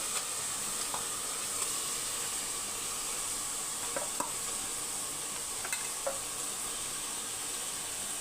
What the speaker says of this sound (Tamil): இப்போ சிக்கனை சேர்த்துடலாம்